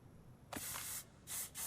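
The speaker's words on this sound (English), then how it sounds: "I'm gonna reapply my bug spray." Bug spray applied in Ark: Scorched Earth, three loud hissing bursts from an aerosol can, the first about half a second long, then a short pause before two more sprays, close and without speech.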